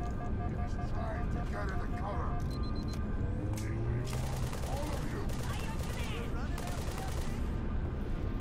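Automatic machine gun turret fire from alien Brutes in the Halo 3 video game, sustained rattling bursts mixed with other battle noise and a voice talking over it.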